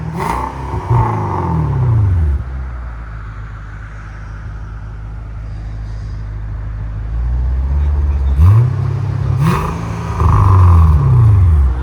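A 2015 Kia K900 5.0L V8 with an X-pipe and Valvetronic universal mufflers idles and revs with its valves closed, producing a low, steady engine drone that rises in two firmer rev swells near the end, with a voice heard briefly.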